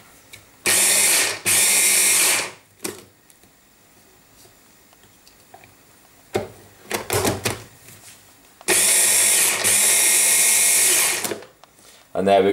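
A kitchen blender chops raw cauliflower into cauliflower rice in two long, loud, steady whirring bursts, separated by a quieter pause with brief clatter and a voice speaking.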